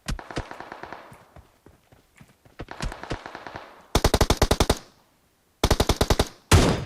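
Automatic gunfire in the mobile battle royale game PUBG Mobile, loud rapid bursts of shots in several strings with brief gaps, the later bursts harsher and closer.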